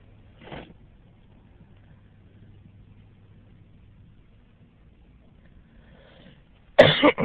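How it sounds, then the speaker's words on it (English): A faint cough early on, then a sharp, louder cough near the end, with quiet background noise in between, from a person recovering from the flu. "you sound like you got a cough"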